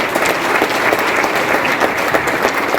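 Dense, steady applause from a seated audience at a business seminar, many hands clapping continuously and close, with no talking over it.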